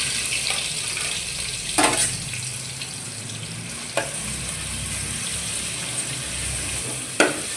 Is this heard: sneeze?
no